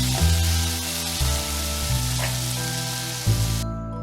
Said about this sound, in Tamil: அப்புறம் பச்சை மிளகாய், தக்காளி இது கூட ஆட் பண்ணுங்க. அதை நல்லா வதக்குங்க.